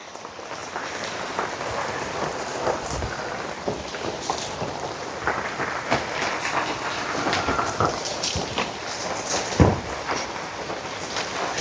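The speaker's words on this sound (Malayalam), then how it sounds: "നീ മഴ കനത്ത് തുടങ്ങിണ്ട്" Heavy rain falls in big, heavy drops, making a dense, continuous patter and hiss around the listener, steady throughout with scattered louder splashes and one sharper thump near the end.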